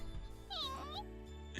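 A cat meows in The Fruit of Grisaia video game, a single drawn-out, rising-then-falling meow heard clearly over a soft steady background tone, with a brief extra sound at the end.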